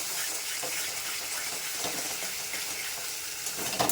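Spice paste with tomato fries in hot oil, giving a steady close sizzle with soft crackling throughout and no voices.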